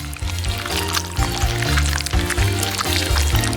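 Mayonnaise poured around the edge of a pizza with tomato paste, giving soft squelching, liquid squirts in a loose repeating rhythm, close and moderately loud with no voices.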